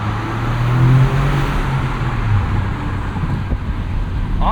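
A 2025 Toyota GR Corolla, a 300 hp six-speed manual hot hatch, drives through a tunnel with the windows down. Its steady engine drone carries over road and wind rumble, with a low tone rising and easing early on.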